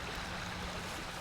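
Forest stream flowing in a steady, broadband wash of water, soft and continuous with no voices.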